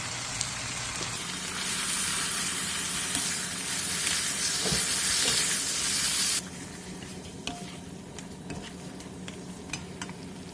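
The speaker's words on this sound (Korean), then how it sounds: "냄비에 들기름 2스푼을 둘러준 뒤 묵은지 한 대접과 참치 한 캔, 설탕 한 스푼, 다진 마늘 반 스푼을 넣고 센 불에서 5분 정도 달달 볶아주세요" Aged kimchi and canned tuna stir-fry over high heat in perilla oil in a pot, giving a loud hissing sizzle that drops sharply partway through, then a quieter crackle with light clicks of stirring.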